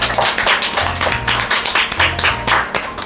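Children and adults at a school English spelling bee clap for contestants, producing a few seconds of loud, uneven hand-clapping in rhythmic bursts over a faint low hum.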